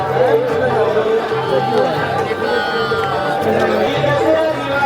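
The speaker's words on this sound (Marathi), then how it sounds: "गर्दी बघा काय आधी भयानक" Crowd chatter at a village fair in Devgad: a thick, steady babble of many voices milling around close by, with no single voice standing out.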